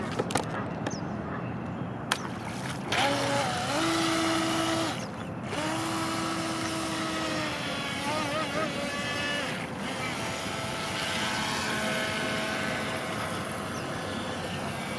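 A small motor whines steadily as a Venom UDI001 RC boat runs across water, with a constant buzzing drone and splashy wash throughout.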